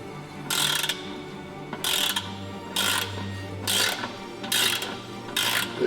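A torque wrench ratchets an aluminium sump bolt on a Mercedes-AMG GLE63S oil sump in six loud, close, evenly spaced bursts of clicking, with no voices.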